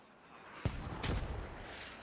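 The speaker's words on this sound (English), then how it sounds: "Really accurate mortars coming in there." A mortar round lands with a sudden heavy boom in the game Squad, followed by a rumbling second impact and lingering roar, fairly loud and somewhat distant.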